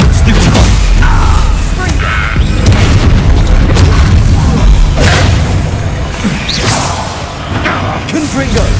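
Fiery Confringo spell blasts in the game Hogwarts Legacy make loud, deep booming explosions over a continuous roar of combat effects, with a voice heard amid the din.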